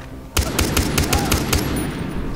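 A rapid burst of automatic gunfire in the video game Far Cry 3, about eight sharp cracks in quick succession, loud and close, with a reverberant tail.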